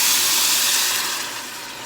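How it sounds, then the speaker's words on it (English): Water poured into a hot pressure cooker pot to deglaze it after cooking chicken sends up a loud, steady sizzling hiss of steam that fades slightly as it settles. "when we add the water, it'll deglaze it"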